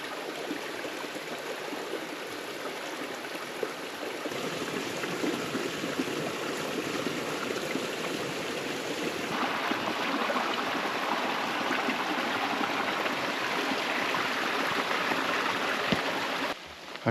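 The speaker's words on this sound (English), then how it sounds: "I can hear Copsey Creek down below. Quite a good flow." Copsey Creek flowing with a good volume below a forested trail along the Rogue River, a steady rushing babble of water, moderately distant and continuous, with no voices.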